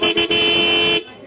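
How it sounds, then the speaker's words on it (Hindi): A scooter horn being tested at a market stall gives one loud, steady electric honk lasting about a second, close by, with a brief stutter at the start before it cuts off. "बाकी हॉर्न आपको चेक करके दिखाएंगे"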